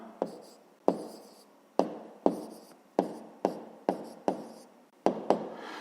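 Pen strokes writing numbers by hand on paper, a series of about nine short, crisp scratches at an uneven rhythm, close and fairly quiet, with no talking.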